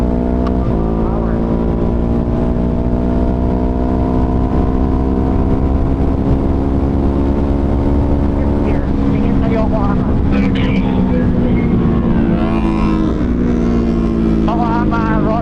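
Ducati Monster 1200R motorcycle engine revving loudly up through the gears, a steady droning tone climbing in pitch and dropping briefly at each upshift, close and continuous.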